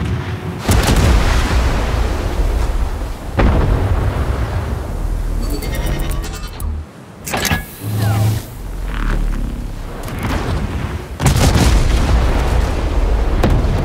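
Massive warship cannons fire in World of Warships, heavy booming broadside blasts with rumbling low-end impacts and sharp transients, loud and close, punctuated by several separate volleys with brief quieter gaps between.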